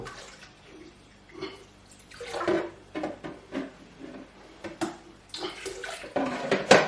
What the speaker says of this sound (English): So I will mix it now and then we put more water.